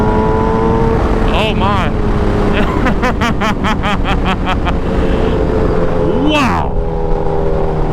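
A Suzuki Hayabusa motorcycle roars loudly and close, its engine note rising and surging with wind rush while someone briefly exclaims over it.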